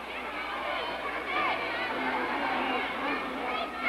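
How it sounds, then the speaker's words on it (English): Dense crowd chatter and murmuring fill a 1950s wrestling arena at Hollywood Legion Stadium in Hollywood, California, a steady, roomy babble with no single voice standing out. "Great crowd here tonight at the Hollywood Legion Stadium in Hollywood, California."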